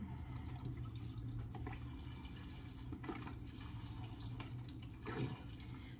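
Liquid pours steadily into a pot of corn chowder on the stove, a soft continuous splashing and trickling that stays fairly quiet and even throughout, with no voices.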